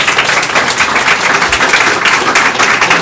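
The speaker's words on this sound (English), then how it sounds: "Would you guys give them a round of applause?" Audience at a game hero design panel at a convention gives a round of applause, dense and steady clapping from a crowd filling the room for a few seconds.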